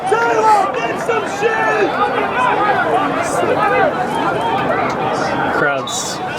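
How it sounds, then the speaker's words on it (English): Crowd noise at a men's soccer league championship final, a busy babble of many voices shouting and chattering close by, with one voice carrying above the hubbub throughout. "Crowd's getting a little riled up here as the tension continues to build in this championship final"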